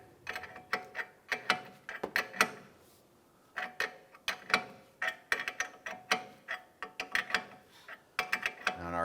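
Ratchet snugging down the strut nut on a 2005-2007 Ford 500 front spring and strut assembly, repeated bursts of sharp clicking strokes with short pauses between, close and alone.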